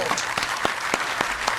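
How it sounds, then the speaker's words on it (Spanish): Audience applause in a studio interview setting, a short burst of rhythmic clapping in evenly spaced beats. "Un fuerte aplauso"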